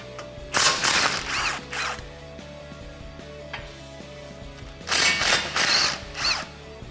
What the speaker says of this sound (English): Grab that 8 millimeter socket and get your bolts out.